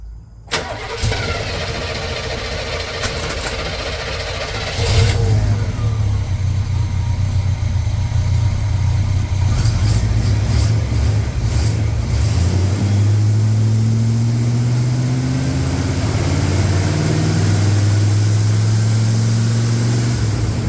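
An old 1955 car engine cranks and catches, then rumbles loudly and revs as it pulls away, the pitch rising and falling with gear changes.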